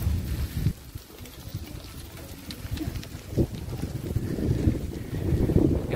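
Wind rushing over the microphone during an outdoor ride in Bulacan near a farm, a steady low rumble that swells and gusts throughout, with no talking.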